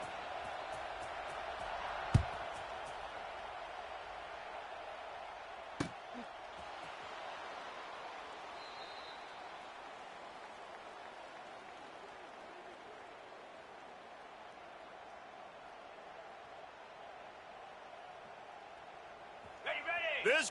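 Steady stadium crowd roar from a college football video game with LSU at home, continuous and broad beneath commentary, with a couple of sharp thuds along the way.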